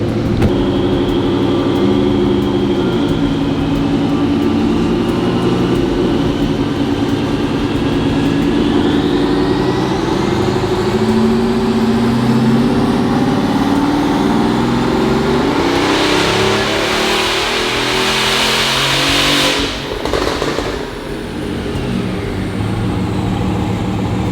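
A Bugatti Veyron being rebuilt after flood damage runs loud and close while driven, its engine droning steadily with a rising whine around the middle and a burst of harsh revving near the end, with no voices.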